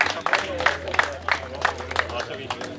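An audience at the PRENGO CUP 2013 tournament award ceremony claps in a steady rhythm, with regular beats about three per second over a low hum and faint room murmur.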